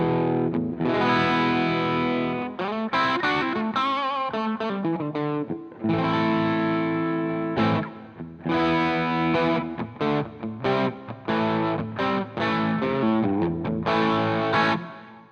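An electric guitar on its bridge pickup plays through mild distortion, with sustained chords and choppy riffs ringing loud and close, broken by short pauses.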